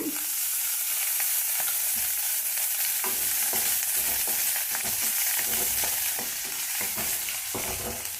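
Onions and green chillies fry in oil for ridge gourd chutney, a steady close sizzle with repeated stirring scrapes and clinks against the pan, with no talking.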